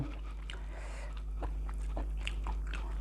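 Someone chewing boiled carrot up close: a few soft, moist bites and chewing sounds spaced out over a steady low background hum.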